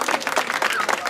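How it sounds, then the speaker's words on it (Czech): A crowd at an outdoor town sports-day event applauds an Olympic champion, a brief burst of dense, loud clapping. "Potlesk pro Katřenku, olympijskou vítězku"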